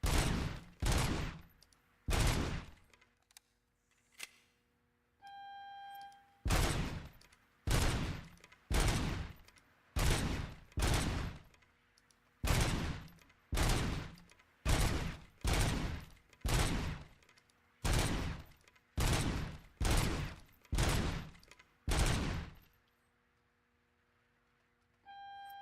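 Video game gunfire comes as a long series of regular, evenly spaced loud shots, about twenty in a row, with a brief pause near the start and a clean stop at the end.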